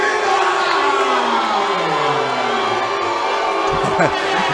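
Split crowd at an MMA event cheering and shouting for fighter Georgie Medina of Chicago after his ring introduction, a loud continuous roar with whoops and shouts, under commentators' voices.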